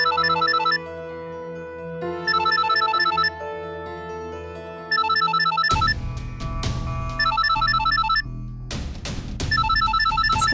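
A telephone rings in repeated bursts of electronic trilling, with tonal background music underneath that swells into a louder, fuller score partway through; no one speaks.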